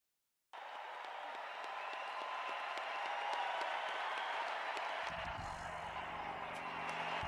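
Large live concert crowd cheering and applauding steadily, a dense sustained roar that starts abruptly after a short silence; near the end a low tonal layer of music or processing enters under it.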